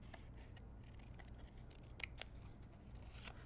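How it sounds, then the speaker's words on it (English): Paper snips cutting out a stamped cardstock letter: quiet, quick crisp snips in an irregular series, a couple of sharper cuts standing out against soft room noise. "you can just take your paper snips and quickly cut out the letter"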